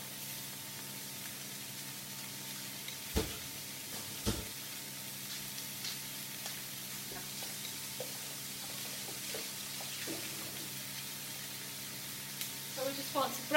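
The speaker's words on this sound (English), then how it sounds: "So we just want to break that up and fry it for a couple of minutes." Sloppy joe mince fries in a pan with a soft, steady sizzle, broken by a few scrapes and knocks as it is broken up and stirred.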